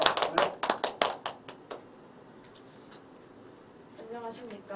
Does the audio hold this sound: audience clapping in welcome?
yes